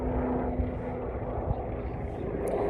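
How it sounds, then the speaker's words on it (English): A helicopter passes overhead near a home, a steady low rotor and engine drone that fills the background evenly without any talking. "It's a helicopter."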